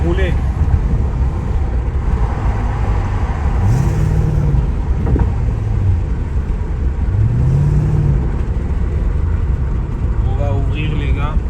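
A BMW E39 540i V8 with manual gearbox and exhaust flaps closed pulls under acceleration, a steady, full engine drone with rising and falling pitch sweeps as it changes gear, while people talk over it inside the car.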